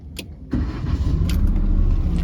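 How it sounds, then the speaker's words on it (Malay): A 2022 Proton Saga standard automatic car engine cranks and catches after a short click, then settles into a steady, close idle. "so kita cuba startkan ini kereta."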